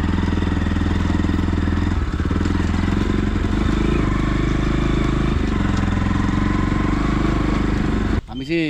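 A motorbike engine running close by on a forest path, a loud steady low throbbing idle that holds throughout, with voices talking over it and an abrupt change at the very end.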